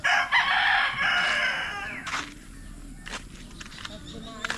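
On a rice farm, a rooster crows loudly and close at the start, followed by quieter clucking from chickens and a few sharp knocks, with people talking nearby.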